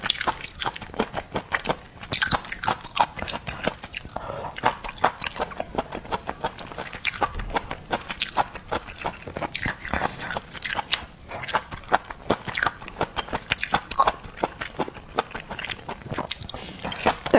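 Close, wet biting and chewing of seafood such as razor clams, surf clam and scallop, with steady crunching and squelching bites and small liquid smacks repeating throughout.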